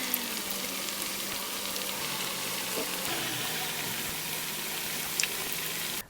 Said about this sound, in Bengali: এখন এক এক করে পাকোড়াগুলো আমি তেলের মধ্যে ছেড়ে দিব।